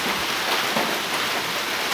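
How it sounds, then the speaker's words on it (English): Steady rain falling outdoors in Washington, a dense, even hiss of drops spread across the whole stretch with no pauses, fairly close and moderately loud, and no voices over it. "And yes, it is raining in Washington."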